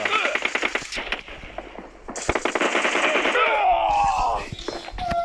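Rapid bursts of M4 rifle fire in a video game, loud and repeated through the clip, with voices talking over the shooting.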